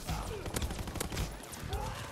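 A GPMG light machine gun fires rapid bursts in Call of Duty WW2, its crackling gunfire running continuously and close amid other battle noise.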